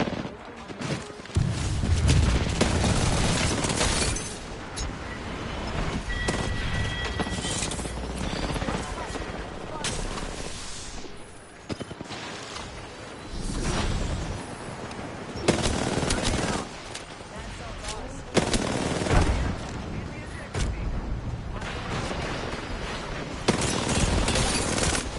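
Video game gunfire crackles through the whole stretch in dense automatic bursts and single shots, with explosive thumps and a low rumble of battle underneath, loud and sustained with short lulls between volleys.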